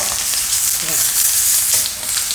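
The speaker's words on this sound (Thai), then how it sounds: "เขาจะเหมือนขาหมูเผาเลยนะคะแต่เราใช้กระทะเผาค่ะ" Pork leg searing skin-side down in a hot frying pan, a loud continuous close sizzle and crackle of fat with no talk over it.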